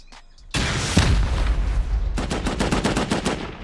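Automated base turrets open fire during a raid in a survival video game: an abrupt, loud burst of gunfire and booms, then a rapid string of evenly spaced shots close by, with no talking.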